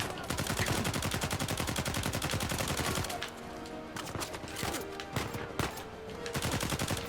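Rapid automatic gunfire rattles during a firefight in the video game Uncharted 4, a dense continuous burst of shots for about three seconds, then sparser single shots and short bursts with a few louder bangs.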